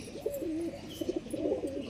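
A female Tikki line pigeon coos in a few soft, rolling phrases, close and clear over a quiet background.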